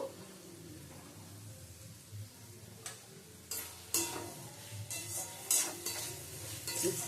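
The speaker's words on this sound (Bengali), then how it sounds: "গ্যাসের স্টিমটা লো টু মিডিয়ামে রেখে মশলাটা কষিয়ে নেব।" A spoon stirs a spice paste with potatoes and okra frying over low to medium heat, quiet sizzling broken by sharper scrapes and clicks that grow louder toward the end, with no talk.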